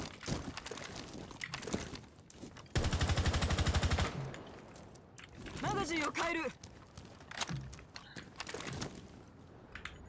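Rapid bursts of video game gunfire crackle in a sustained volley, with scattered single shots and other game effects around it, under someone talking.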